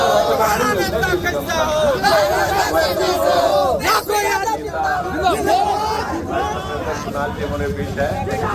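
A large crowd at a Yuva RJD rally in Katihar, Bihar, roars with dense overlapping shouts, cheers and chatter that fill the whole stretch loudly and continuously.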